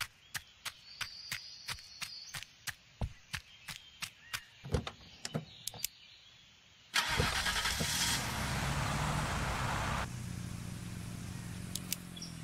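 A car in Junkyard Simulator cranks with a rapid series of sharp clicks and chops, then the engine catches and drives off with a steady, loud mid-pitched drone that eases slightly toward the end.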